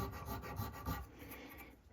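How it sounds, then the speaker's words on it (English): A file rasping across a bone guitar nut, quick close repeated scraping strokes in an even rhythm, fairly quiet. "if you've never filed bone before"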